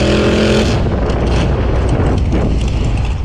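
A rail dragster makes a solo pass down the drag strip. The sound is a very loud, close, continuous roar that fills the whole stretch and stays steady throughout.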